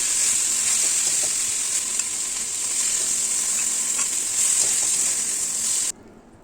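Vegetables sauté in a hot pan with a steady, loud sizzle and occasional stirring scrapes, cutting off abruptly at the end.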